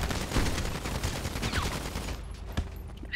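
Dense bursts of automatic gunfire and overlapping shots in the GTA role-play video game, loud and continuous for about two seconds before thinning to a few isolated cracks.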